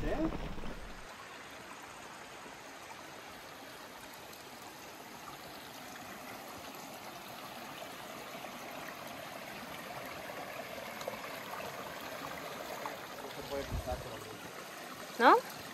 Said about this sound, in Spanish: Sí, se escucha ya. El torrent